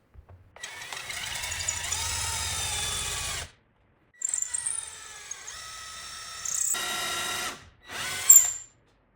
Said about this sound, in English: Put the dowel into the drill and let's go.